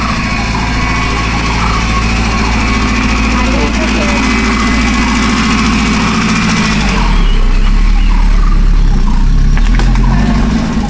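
A car's engine runs loud and close as the vehicle sets off on a trip toward Gaganbawda fort and the Gaganagiri ashram, a steady rumble that deepens and shifts partway through, with voices talking over it.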